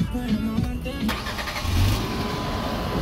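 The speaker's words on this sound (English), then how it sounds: "Let me start it up so you can hear this engine, how good it sounds." A 2.3-liter 16-valve car engine cranks and catches with a sharp onset, then settles into a low steady rumble at moderate distance, with a voice talking over the start.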